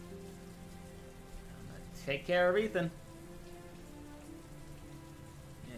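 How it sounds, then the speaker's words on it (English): Steady rain patters continuously on a surface, with a voice speaking briefly over it partway through, in the video game Heavy Rain: Remastered. "More rain. Of course, that's the theme with this game, lots and lots of rain."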